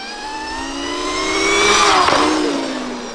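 An electric Surron Light Bee 2 motorbike pulls a wheelie, its motor whine rising in pitch and swelling louder close by, peaking near the middle before easing off, with no talk over it.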